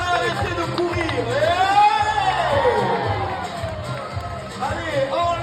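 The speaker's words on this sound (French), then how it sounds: "Un tonnerre d'applaudissements pour cette vache" Crowd at a taureau piscine bull-pool event cheers and whoops for a cow, a loud, lively roar of voices with scattered shouts, while an announcer speaks over it through a loudspeaker.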